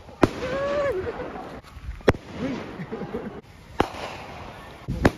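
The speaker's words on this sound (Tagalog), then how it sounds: "may fireworks po kami dito sa Plamondon" Fireworks going off at Plamondon Whitesands resort at night, several sharp distant bangs spaced a second or so apart, with whistling rises and people reacting nearby between the pops.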